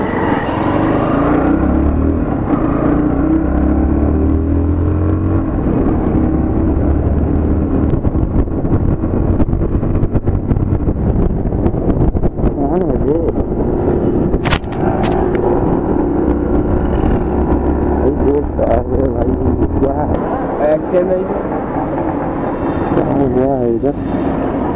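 Road vehicles stuck in a heavy traffic jam, with continuous engine rumble, wind buffeting the microphone and occasional honks, under a voice talking throughout.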